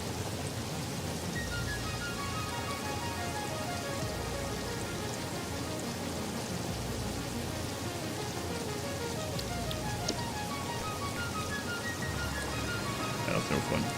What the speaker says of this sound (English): It could be the rain.